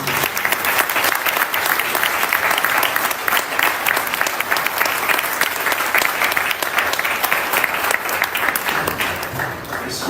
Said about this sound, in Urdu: تو ان کے لیے بہت ساری تالیاں